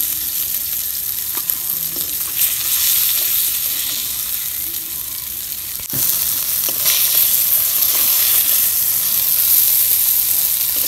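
Pangas fish fry in hot oil in a pan with a loud, continuous sizzle and crackle, briefly dipping, then steady again, with no voices.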